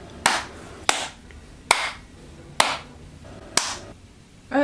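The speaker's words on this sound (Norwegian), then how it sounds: "Klapp først da." Five sharp hand claps ring out one at a time at a steady, deliberate pace in a quiet room, each one crisp and close with a short decay.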